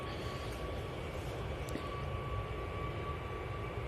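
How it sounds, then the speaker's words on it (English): An Atlas Air Boeing 747 arriving at Manchester Airport, a steady broad roar of jet engines heard from a distance, holding even and continuous throughout. "I'm going to get the 747 coming in."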